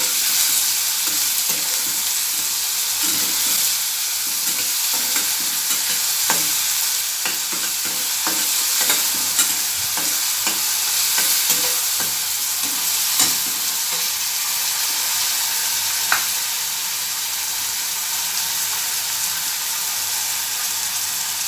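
Finely chopped large onions sizzle steadily in a hot pan for a Marathi vegetable dish, with a constant bright frying hiss and occasional spatula scrapes and stirs close by.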